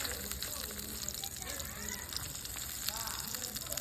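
Vegetables for tomato chutney sauté in a tiny miniature pan, giving a light, continuous sizzle with faint stirring scrapes, partly masked by voices talking throughout.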